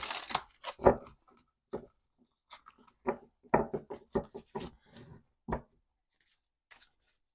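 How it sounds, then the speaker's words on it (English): Tarot cards being shuffled by hand, a series of quiet papery riffles and taps at irregular intervals, close to the microphone with silence between bursts. "I'm just going to shuffle."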